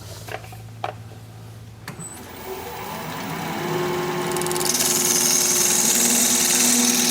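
Wood lathe spinning up to turn a hollow wood form after a freshly sharpened tool goes in, a steady motor whine that builds louder over a few seconds and rises into a sustained high-pitched cutting hum.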